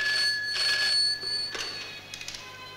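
An old telephone bell rings in a dramatic Egyptian film scene, two loud trilling bursts close by that fade into quieter ringing, with no voices.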